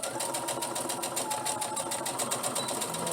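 A sewing machine stitches tunic shoulder seams together, a fast, steady mechanical chatter of needle strokes close by, with no talking.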